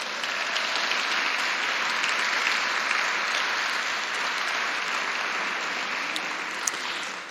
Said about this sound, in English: Please join me in a round of applause for all their efforts.